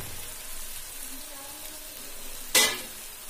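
Masala paste for dal makhani fries in oil with a faint, low sizzle and soft stirring, then a single sudden louder splash-like hiss as cream drops into the pan.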